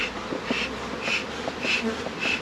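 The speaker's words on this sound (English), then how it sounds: "I had so many bees." Honeybees from a dropped full hive box buzz steadily and close by, with the drone swelling in repeated pulses about every half second.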